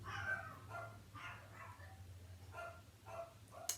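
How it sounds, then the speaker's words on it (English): Several dogs barking and yipping indoors behind a closed door, a string of short, fairly quiet barks repeating through the stretch over a low steady hum. "They love to bark."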